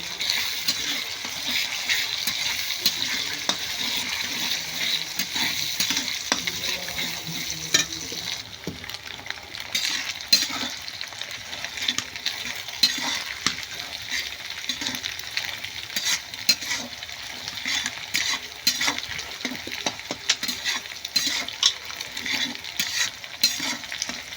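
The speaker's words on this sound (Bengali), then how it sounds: "এবার ডিমটাকে ভালো করে নাড়াচাড়া করে নেবো" Egg stirred and fried in a pan with onion and chili, a continuous soft sizzle with repeated scraping and clinking of the spatula throughout, fairly close and steady.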